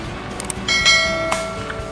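A small bell on a fishing rod rings as a fish strikes, a brief bright jingle of a few close metallic rings with lingering tone, no talk.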